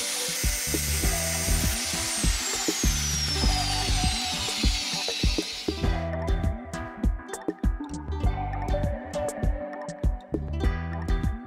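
A power tool whines loudly against wood while sanding a barn door, its pitch sliding down before shifting to rougher grinding with rhythmic scraping pulses.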